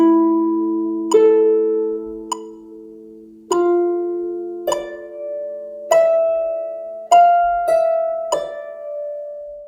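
Plucked harp notes ring out and decay one after another, with a metronome clicking on the quaver beat beneath them; no talking.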